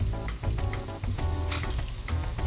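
Chopped onions with turmeric powder sizzle and fry steadily in a pan for chicken dum biryani, a dense continuous crackle with small spits throughout, close and alone.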